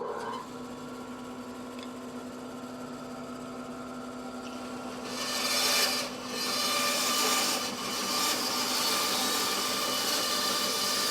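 Handsaw rasping steadily through wood along a fence guide, continuous gritty cutting noise that swells louder in the second half, fairly quiet and close with no voices.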